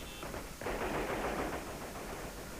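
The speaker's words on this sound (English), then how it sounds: "the streets still echo to the sound of gunfire" Rapid bursts of gunfire crackle through city streets, sustained and loud, with echoing reports blending into a continuous rattle.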